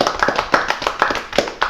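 A small group at a Takenoko board game night clapping for the winner, a handful of hands in loose, quick rhythmic claps close by, brief and bright.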